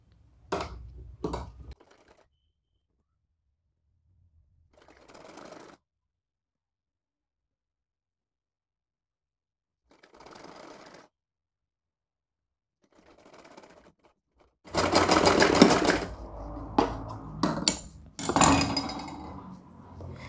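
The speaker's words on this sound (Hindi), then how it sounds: "अब यहाँ पर लगाएंगे हम सिलाई" A sewing machine stitches folded fabric and lining on a party-wear frock, with brief bursts early on, a few short pauses, then a loud sustained run of rapid stitching near the end, close and alone.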